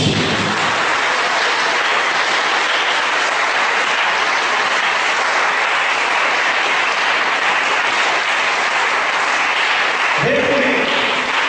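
Church congregation applauding together, a dense, loud wash of clapping that holds steady for about ten seconds before a voice cuts in near the end.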